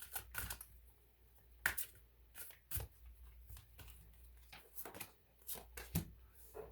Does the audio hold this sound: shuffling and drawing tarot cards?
yes